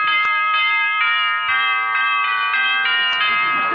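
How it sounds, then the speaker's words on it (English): A radio show sound-effect doorbell from a 1941 comedy broadcast rings on and on, a loud close chiming peal that repeats without pause and carries no talk. "Well, you really fixed that doorbell"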